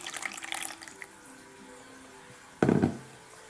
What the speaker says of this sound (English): fill the rest to 50 ml of water